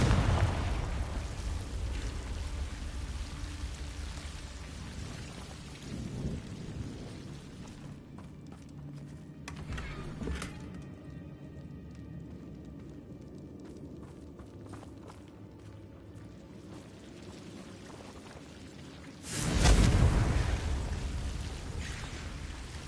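A Confringo blasting spell explodes in Hogwarts Legacy. Two booming bursts are heard, one at the start and a louder one near the end, each with a rumbling decay, over a steady game ambience.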